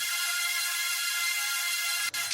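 Distorted high synth chords drenched in reverb, layered into a dense, airy wash that holds steady and loud, then briefly drops out near the end before returning.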